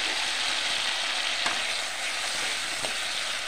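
Green chilies fry in a pan with a loud, constant sizzle, broken by a couple of faint scrapes from stirring.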